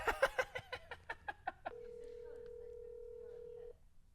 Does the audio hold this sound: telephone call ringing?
yes